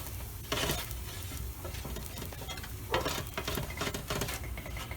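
A steak quesadilla sizzles loudly on a hot flat-top griddle after being flipped, with steady frying hiss and a few sharp scraping bursts from a spatula, close up.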